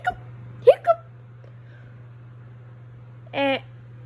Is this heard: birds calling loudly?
no